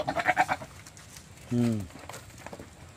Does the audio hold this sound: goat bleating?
yes